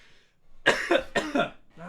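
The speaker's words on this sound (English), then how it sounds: "Stupid cough." Two or three harsh, close coughs burst out in quick succession from a single person, each a raspy throaty bark, with a brief quieter breath trailing at the end.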